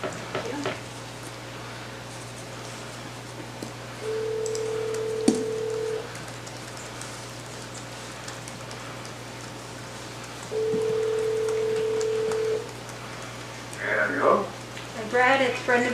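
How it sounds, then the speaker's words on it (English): Phone ringback tones from an outgoing call to a member of the public during a city council meeting, two long steady tones several seconds apart over a low hum, followed by faint speech. "he will be called on the phone."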